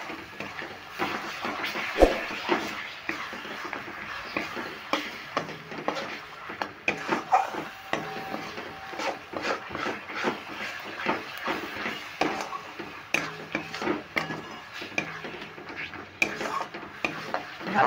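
Coriander leaf paste being stirred with tamarind in a pan for a sweet-sour pickle, a continuous scraping and clinking of a spoon against the metal pan with a faint sizzle underneath.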